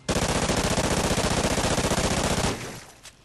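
Rapid submachine gun hip fire in Call of Duty: Ghosts, a loud, steady burst of fast automatic shots lasting about two and a half seconds before cutting off into a brief fading tail.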